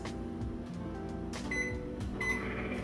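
A microwave oven runs with a steady, close electrical hum and drone throughout, heating a cup of bone broth for two minutes.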